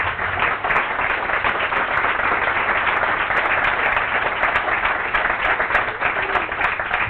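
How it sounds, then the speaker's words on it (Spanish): An audience gives a strong round of applause for the speaker Nora at an organisational talk, with dense, steady clapping that lasts throughout at a constant level and no voices over it. "lo que sí que os pido es un fuerte aplauso para Nora"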